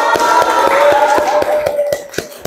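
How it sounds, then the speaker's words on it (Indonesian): A vocational school class applauds in a classroom, a short burst of fairly close clapping from a small group with distinct rhythmic hand claps over a faint murmur of voices. "Tepuk tangan dulu dong"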